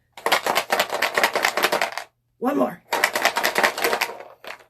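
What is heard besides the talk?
shaking Story Cubes dice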